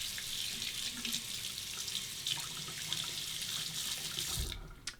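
Tap water running steadily into a sink while a Muhle R41 safety razor is rinsed beneath it, a constant close splashing rush that cuts off at the end.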